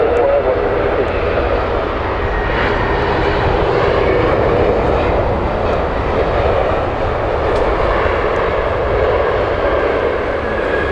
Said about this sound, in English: there is the Airbus A220 from Air France